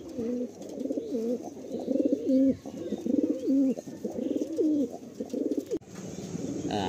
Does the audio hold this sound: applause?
no